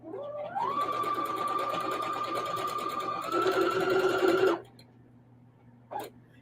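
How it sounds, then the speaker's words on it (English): A sewing machine runs steadily, stitching a quilt just beside the seam ditch with black thread. The motor speeds up after a short start and hums close and loud for about four seconds, then stops, followed by a brief clunk. "I'm sewing slightly beside the ditch because I don't want the stitching to show."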